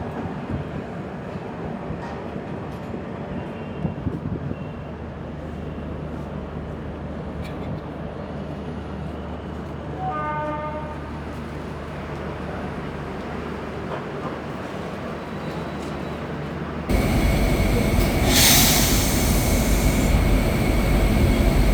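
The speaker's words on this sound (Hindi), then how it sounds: "अब चलिए देखते हैं कब होता है हमारी ट्रेन का डिपार्चर इंदौर जंक्शन से।" The Indore New Delhi Superfast Express departing Indore Junction, a loud continuous low rumble of the train with a brief tonal beeping in the middle, then a sudden louder burst of broadband hiss near the end.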